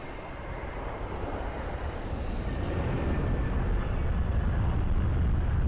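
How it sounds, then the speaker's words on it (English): An Airbus A330 airliner departing Lisbon Airport, a broad low engine roar that builds steadily and grows louder over several seconds, heard at a distance outdoors with no voices. "Airbus 330 is now departing"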